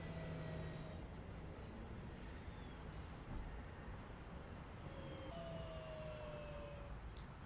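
Simulated train rolling on rails in Train Sim World 5, a steady rumbling run with drawn-out wheel squeals and high metallic whines rising over it, continuous and fairly close.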